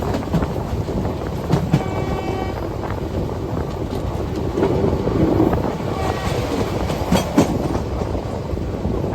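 A long-distance passenger train pulls out of Bardhaman Junction on the Kolkata to Varanasi route, a loud continuous rumble with rhythmic clatter of wheels over rail joints, heard close from on board.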